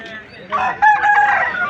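A rooster crows once at a busy rooster market in Vijayawada, a clear, fairly close cock-a-doodle-doo rising over low background murmur.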